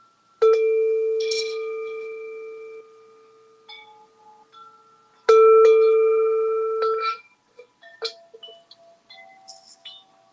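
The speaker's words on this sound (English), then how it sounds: "got my wind chime right there" An outdoor wind chime rings with long, clear metallic tones, two strong strikes each sustaining for seconds, followed by scattered lighter tinkling notes.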